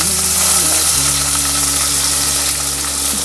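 Onion sizzling and frying in a hot pan while homemade pasta is prepared, a steady, loud, continuous hiss of oil with a faint low hum underneath and no talking.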